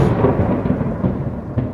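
A deep, rolling, thunderous rumble stands in for the explosions of the L'Aigle meteorite in the cloudless sky over Normandy. The roar is loud and sustained, with low surges and no talking.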